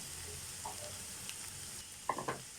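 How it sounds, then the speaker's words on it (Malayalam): Curry leaves and onions fry in a pan for onion chutney, a soft continuous sizzle with a few faint clinks and a brief burst of crackle near the end. "ഒരു പിടി കറിവേപ്പില ഞാനിപ്പോൾ ചേർത്തിട്ടുണ്ട്"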